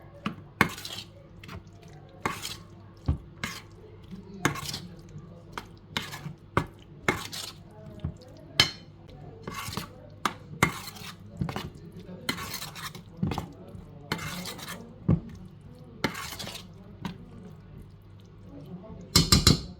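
Vegetables being stirred in a pan for a cheese dish, a utensil scraping and knocking against the pan in repeated sharp clatters over a low background hum, with a voice speaking in places.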